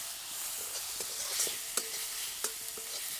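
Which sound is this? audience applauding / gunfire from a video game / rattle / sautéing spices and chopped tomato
sautéing spices and chopped tomato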